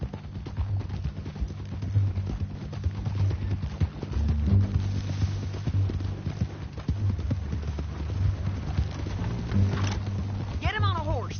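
Rhythmic horse hoofbeats clip-clop steadily beneath low rumbling background sound in the video game Red Dead Redemption 2, with a brief rising whine near the end.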